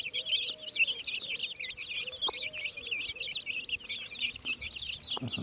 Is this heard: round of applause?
no